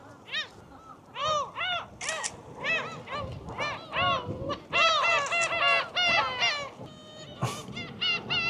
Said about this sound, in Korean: 갈매기 소리가 엄청나다.